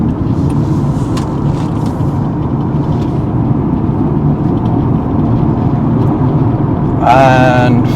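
A car engine hums steadily after the shift into third gear while driving in city traffic, a constant moderately loud drone; a voice comes in briefly near the end.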